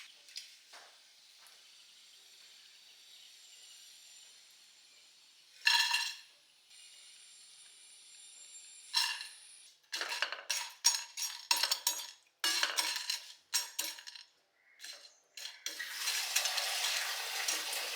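Banana chips fried in a pan for Onam, with bursts of scraping and clattering as a spoon stirs them, separated by quiet gaps, then a steady sizzle near the end.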